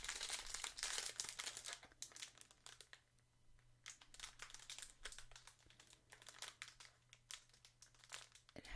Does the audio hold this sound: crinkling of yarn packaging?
yes